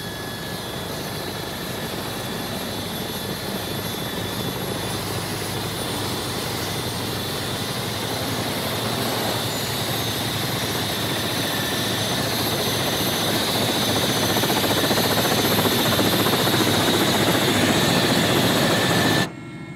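Helicopter rotor and engine roar, loud and steady, building slightly before cutting off abruptly at the end as it sets down in a polar setting.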